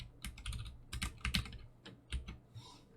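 A computer keyboard is typed on in a quick, uneven run of close, crisp key clicks over about three seconds, with no voice.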